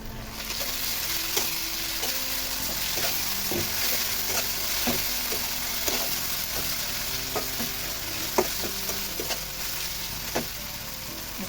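Onion with ginger garlic paste and salt sizzles steadily in hot oil, with a spoon scraping and stirring the pan in frequent light knocks throughout, close and fairly quiet with no one speaking.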